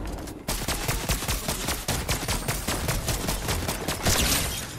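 Rapid gunfire in the video game Fortnite, a dense, loud string of shots in quick rhythm that continues for several seconds with barely a pause.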